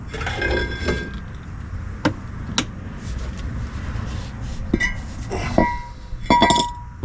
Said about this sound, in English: Now, the rotor should come right off.